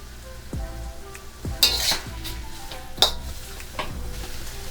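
Hibachi steak with seasoning frying in a pan, a steady soft sizzle broken by a few sharp scrapes and stirring clinks of a utensil against the pan.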